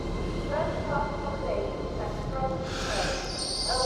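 An LNER 225 train at York station bound for Edinburgh, a steady low rail rumble with some squealing tones, heard under a person talking nearby.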